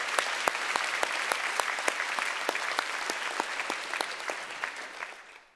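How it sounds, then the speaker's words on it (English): Sustained applause from a university graduation audience, a dense wash of many hands with a few sharper claps standing out, steady and fairly loud before fading away at the end. "So I think another big round of applause is warranted."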